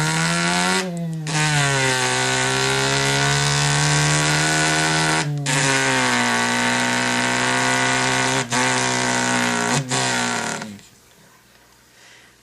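A man imitates a turbocharged car engine with his mouth, producing a loud, buzzing, sustained engine drone that rises and dips in pitch like revving and gear shifts, with brief breaks, then fading to near silence.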